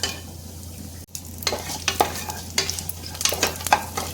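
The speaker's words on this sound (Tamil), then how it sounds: "இந்த ஸ்பைசஸ் எல்லாம் போட்டுடலாம்." Whole spices fry in coconut oil and ghee in a pressure cooker, with a steady close sizzle and several scraping stirs of a spoon.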